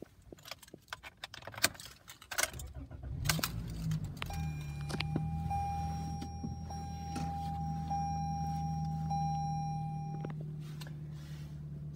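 Key twisted in the standard ignition of a 2022 Toyota Corolla L CVT, a few clicks and jingles, then the engine cranks and settles into a steady low idle with a faint chime tone sounding over it; no talking.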